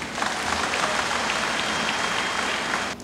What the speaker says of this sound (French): Je vous demande un gros applaudissement pour nous.